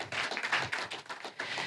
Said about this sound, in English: So one more round of applause for Colin,